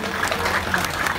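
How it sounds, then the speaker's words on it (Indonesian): Brief burst of crowd clapping at a Catholic church inauguration after a bamboo-cutting ceremony, fairly loud and continuous for just over a second. "mari kita beri aplaus tepuk tangan yang meriah"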